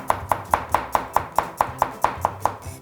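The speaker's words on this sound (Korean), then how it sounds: "귀찮으시겠지만 이렇게 해서 요거를 편으로 좀 썰어 주셔야 돼요." A knife slices garlic cloves on a cutting board in a steady run of about a dozen crisp, evenly spaced chops, close and clear with no voices.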